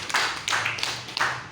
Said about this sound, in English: Round of applause for you.